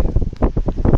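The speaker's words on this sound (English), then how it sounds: "it's windy out here" Heavy wind buffeting a microphone outdoors, a loud, continuous low rumble that swells and dips in quick gusts over one second, with no voices.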